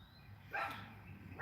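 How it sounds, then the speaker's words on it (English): Several excited dogs barking indoors, a short burst of yaps rising briefly over quiet room tone. "these dogs are going crazy"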